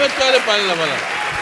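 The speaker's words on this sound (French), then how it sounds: "Là, les gens applaudissent." Comedy show audience applauds at a live African humour sketch show: a brief burst of clapping overlapped by loud voices calling and cheering close by.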